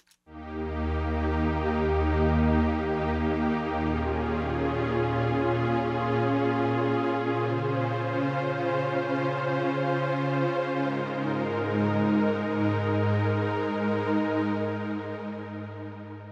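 A sustained, lush synthesizer pad chord holds steadily, shifting its low notes partway through and slowly fading at the end.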